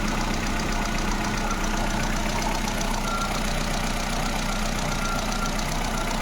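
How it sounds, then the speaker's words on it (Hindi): A Ford Fiesta engine, freshly rebuilt after a head gasket repair, idles steadily at close range with a continuous even drone and a faint knocking undertone, no voices. "गाड़ी स्टार्ट हो गई है।"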